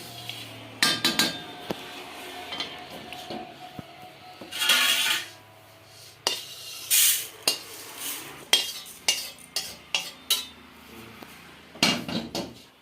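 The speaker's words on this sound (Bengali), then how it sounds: "আমার ডালটা ভাজা হয়ে গেছে আমি ঢেলে নিচ্ছি" Fried mung dal being tipped from a pan into a dish: irregular metallic clinks and scrapes of a spoon against cookware, in short bursts with a few brief pauses, fairly close.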